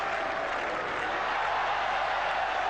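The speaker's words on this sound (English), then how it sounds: "still the crowd yelling 4" A cricket crowd at a 1981 England versus Australia Test match roars, yells and applauds a boundary four, a dense, sustained wall of cheering and clapping throughout.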